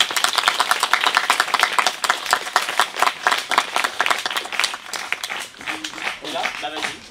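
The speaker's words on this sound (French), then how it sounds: "Merci d'applaudir Solène." A theater audience gives dense, rapid applause for Solène at the close of a performance. The clapping is loud and sustained and eases off near the end, where a voice speaks over it.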